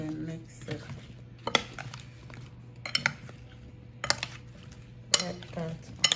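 Candied yams, Jamaican style, being mixed in a pot, with repeated scraping and clinking of a utensil against the pot in uneven strokes, close up, while a voice talks now and then.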